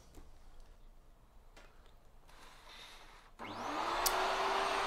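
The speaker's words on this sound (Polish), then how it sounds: "Ja używam jak zwykle swojego niezawodnego odkurzacza 3M" A 3M vacuum cleaner, about 11 years old, used to clean a Ricoh copier drum developer unit: low steady whir with faint ticks, then motor rising sharply to a loud, rushing roar with a climbing whine.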